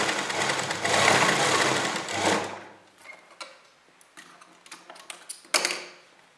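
A sewing machine stitches a slanted shoulder seam on a kurta, running in a loud, fast buzzing burst for a couple of seconds before stopping, followed by quiet ticks and fabric handling clicks.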